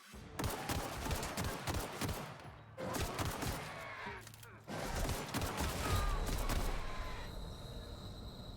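Shotgun blasts in The Outer Worlds, a video game: a burst of loud, booming shots in three clusters with short gaps, each shot sharp and close, with faint talk mixed in.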